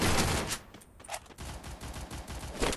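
Gunfire in the mobile battle royale game Garena Free Fire: a quick burst of shots at the start, then rapid automatic fire rattling through the rest, moderately loud and without talk.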